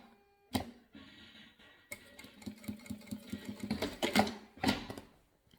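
An embroidery machine stitching a label onto tricoline cotton fabric runs in quick rhythmic bursts of needle strikes, quiet and close, pausing between stitching runs with faint mechanical clatter.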